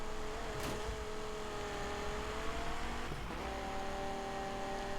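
Dodge Viper SRT with its V10 engine in the Need for Speed 2015 racing game, a steady engine drone held at near-constant pitch with a brief rev shift midway, loud and continuous with no talk.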